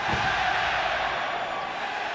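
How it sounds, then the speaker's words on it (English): A packed wrestling arena crowd at an AEW Grand Slam event in Mexico roars in a dense, continuous wall of cheering and shouting, loud and sustained throughout. "Listen to the crowd"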